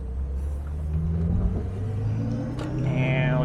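A Jaguar E-Type V12 engine with a manual gearbox rumbles steadily at low revs, its tone shifting slightly as it downshifts, with a brief mechanical clunk near the end.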